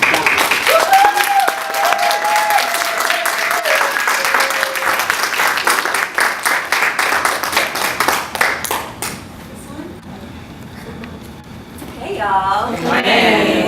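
An audience applauds warmly to welcome a speaker at a 2016 talk, with steady loud clapping that gradually thins out, followed by a quieter pause before a voice begins near the end.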